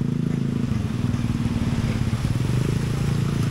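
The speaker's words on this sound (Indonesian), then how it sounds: "kendaraan yang melintas" Traffic streams steadily along a busy road, with a motorcycle engine droning loud and close among buses and cars passing in a continuous rumble.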